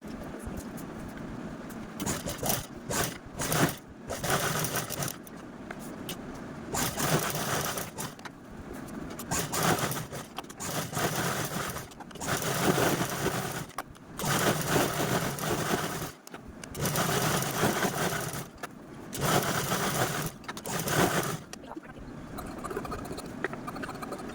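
A sewing machine quilting layers of leftover blouse-piece fabric in diagonal lines. It runs in loud bursts that stop and start again, with short pauses as the fabric is shifted, and no one talks over it.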